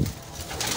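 A short burst of cooing from breeder pigeons in a Lahore loft in Bhati Gate, a low murmur heard up close for under a second, with no voices.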